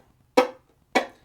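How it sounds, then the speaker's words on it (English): Two short percussive fiddle up-chops in bluegrass style, each a brief scratchy bowed burst with a warm pitched core that decays quickly, separated by silence, close and moderately loud. "The Bluegrass up chop sounds like this."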